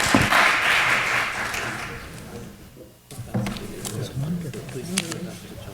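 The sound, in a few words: audience applause for the speakers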